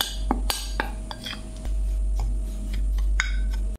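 Sharp clinks and taps of a utensil against a bowl ring out as fish pieces are mixed with flour, cornflour, pepper, salt, chilli, turmeric and roasted spice, in short irregular strikes over a low background hum.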